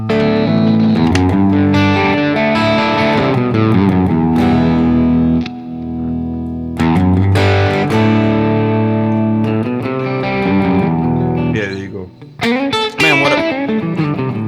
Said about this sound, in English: You got a 335 with two P90s and just manipulating the controls.